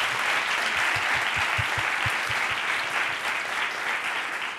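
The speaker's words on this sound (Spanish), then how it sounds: "Un aplauso, por favor." Audience applause breaks out during an interview event, a dense, even wash of clapping with a few sharper individual claps standing out as it holds steady and slowly eases.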